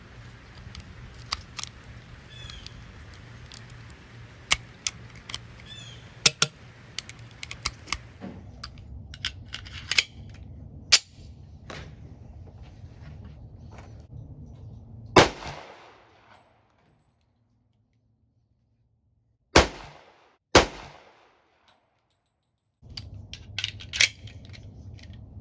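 Sharp, loud pistol shots from a CMP 1911 rack grade firing 230 grain Federal rounds at an outdoor range, sounding as separate reports at irregular intervals with brief gaps of quiet between them.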